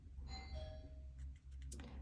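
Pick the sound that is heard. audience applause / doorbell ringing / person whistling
doorbell ringing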